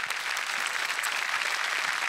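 An audience applauds at a live stage comedy show, steady close clapping from a large crowd that fills the whole moment without talk.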